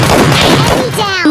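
Gunfire rattles in the PUBG Lite video game, a dense burst of sharp shots close and loud, followed by a brief rising tonal effect at the end.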